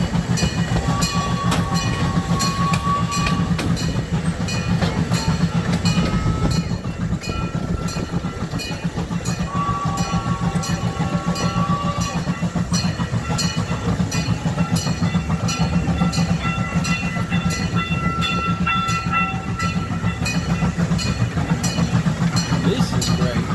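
An amusement park train ride along the Kemah Boardwalk rolls on with a steady rumble and rail clatter throughout, occasional squeals, and a recorded announcement voice speaking over it.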